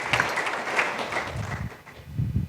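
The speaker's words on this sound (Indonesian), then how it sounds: "yang yakin dirinya menang berikan tepuk tangan meriah buat Tuhan kita," A church congregation during an online worship service gives lively applause, clapping with a few louder claps, mixed with low voices and fading briefly before picking up.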